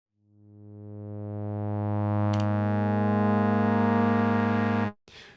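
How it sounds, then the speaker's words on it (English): A Vital synth patch plays a single sustained saw wave through a low pass filter, swelling in for about five seconds as a rich buzzing tone before cutting off abruptly. "just an initial saw wave and a low pass filter"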